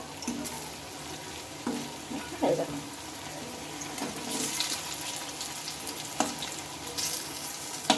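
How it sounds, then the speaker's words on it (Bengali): Pieces of pointed gourd and green banana sizzle in a pan under a steady frying hiss, broken by occasional clinks and scraping sounds from turning them, fairly close. "এগুলো দেখো এক সাইডটা কিন্তু ভাজা হয়ে এসেছে"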